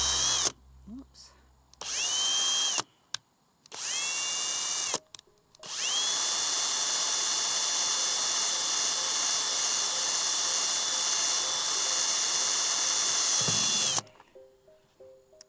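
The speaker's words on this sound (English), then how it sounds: "I know exactly where I need to drill a hole" Power drill boring a small pilot hole in a life-size Tin Man Halloween decoration: a few short whirring bursts, then one long steady high-pitched drilling run for about eight seconds, loud and close, stopping abruptly.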